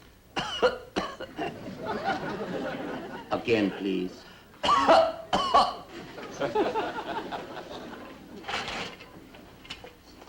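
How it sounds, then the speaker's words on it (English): Someone coughs several times in short, harsh bursts, with a voice speaking briefly between the coughs. "Now, cough, please."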